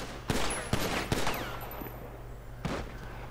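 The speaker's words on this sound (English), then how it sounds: "Just a little warning fire, just a little warning fire" Video game gunfire rattles off in several sharp bursts of warning shots, each loud and close, with quieter gaps and a low background hum between them.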